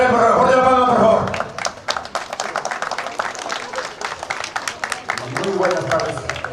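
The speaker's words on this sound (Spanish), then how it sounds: "El aplauso fuerte para él, por favor, fuerte la palma, por favor." An audience at an anniversary celebration of Club Unión Deportivo Primavera in Antabamba bursts into brisk, dense applause for the club's founder, with someone speaking over a loudspeaker before the clapping and again as it fades.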